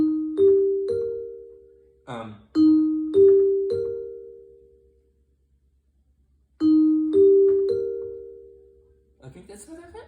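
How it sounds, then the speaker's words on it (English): Two rounds of a gentle multi-note Royal Caribbean cruise ship PA chime played on a Yamaha Motif MOXF synthesizer, bright sustained tones repeating after a pause, with a brief murmur of speech at the end. "Royal Caribbean Cruise line PA tone."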